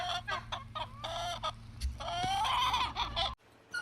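Chickens roaming an open outdoor area at morning feeding cluck and squawk in quick overlapping bursts, close by, with a brief drop to quiet near the end.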